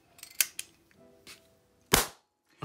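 Liston air pistol firing after its power has been adjusted: a few soft clicks, then a loud sharp pop of the shot, alone with no talk.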